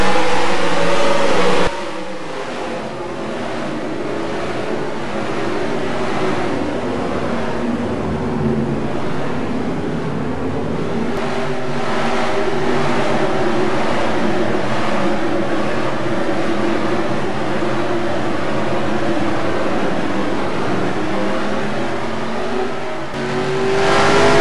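Engine roar from a field of NASCAR stock cars accelerating away from the green-flag start at the Mirage track in the NASCAR Racing 2003 video game, a loud continuous multi-car drone that rises and holds steady without talk.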